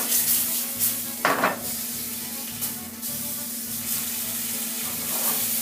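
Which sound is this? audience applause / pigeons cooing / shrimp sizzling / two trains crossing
shrimp sizzling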